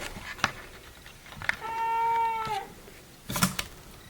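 A cat meows once in a drawn-out, clear call, close by, framed by a few soft clicks and taps before and a brief rustle after.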